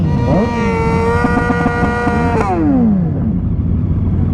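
Sport motorcycles pull away at a bike night, one engine winding up sharply through quick gear changes, loud and close, then the pitch drops as the bike speeds off and fades into background rumble.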